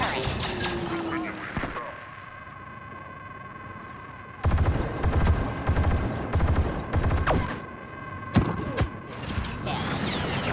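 Turret blasts and weapon fire from a Star Wars Battlefront II battle on Geonosis, a dense fusillade of rapid bursts that starts loud around the midpoint and continues with electronic tones and voices mixed in.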